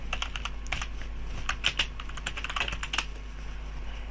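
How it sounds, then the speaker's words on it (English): Rapid, uneven clicking of keys on a computer keyboard, close and fairly quiet over a low steady hum, with no talk. "just typing exploit and pressing enter"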